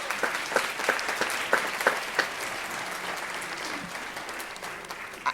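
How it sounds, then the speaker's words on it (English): A commencement ceremony audience breaks into steady applause, a dense wash of many hands clapping with a few sharper claps standing out near the front, continuing without pause for several seconds. "I'm going to ask you to hold your applause"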